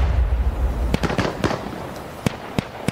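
A frag grenade in Insurgency Sandstorm gameplay bursts with a deep rumble, followed by a string of sharp cracks and pops, close and loud, with no talk.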